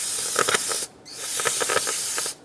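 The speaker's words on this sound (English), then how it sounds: "Spray down the rag." Parts cleaner hisses from an aerosol can onto a rag in two close, loud bursts separated by a short pause, with no talk.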